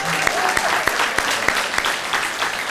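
Audience applause at a retirement ceremony for a university president, a steady indoor patter of many hands clapping with a few sharper claps standing out, continuing evenly for a few seconds.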